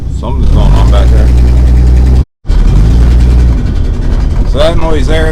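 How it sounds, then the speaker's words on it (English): Exhaust rubbing against the drive shaft of a 1963 Ford Falcon Futura hardtop, heard as a steady, loud low rumble of the running engine with someone talking over it; the sound cuts out briefly midway. "So that noise there that you hear, I think the exhaust is rubbing against the drive shaft"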